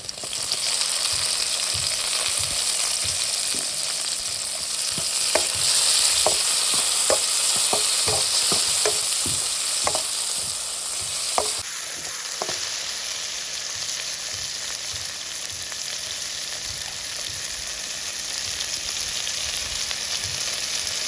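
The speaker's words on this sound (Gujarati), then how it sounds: "ડુંગળી પાકી જાય એટલે ટમેટા નાખવાના છે આપણે એમાં। ચાલો નાખી દઈએ ટમેટા।" Tomatoes go into frying onions for a Gujarati mixed-farsan vegetable dish, setting off a loud, continuous sizzle. Repeated scraping taps of a spoon stir the pan, then the hiss settles into a steady fry.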